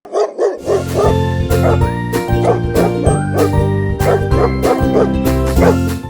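Several dogs bark loudly and repeatedly in an animal welfare association kennel, overlapping rapid barks close by with a faint jingle in the background.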